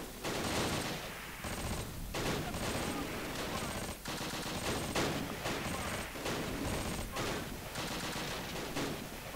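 Battle in the war strategy game Close Combat: The Longest Day brings dense, continuous gunfire: overlapping machine-gun bursts and rifle shots rattle in rapid clusters with brief gaps, loud and unbroken by talk.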